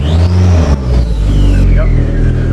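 A vehicle engine hums and revs briefly as it pulls into a garage, close and loud, with a person talking over it.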